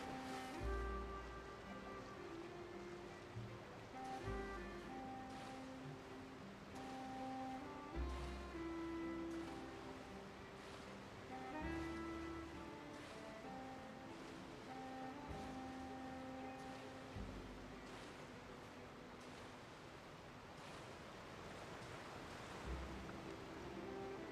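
A Genshin Impact character swims through open water on the way to Fontaine's port, with steady washing, surf-like water ambience running under layered game music for the whole stretch.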